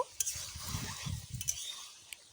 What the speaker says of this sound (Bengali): বেশ কয়েকবার আমি এইভাবে ঢাকা তুলে তুলে নাড়াচাড়া করে কষিয়ে নেব